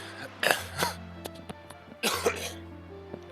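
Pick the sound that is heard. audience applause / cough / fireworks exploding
cough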